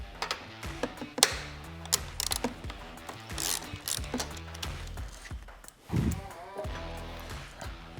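A 9/16 ratchet wrench removes a stud from a Harley motorcycle fairing, giving close, clicking ratchet bursts in uneven strokes with metallic knocks between them.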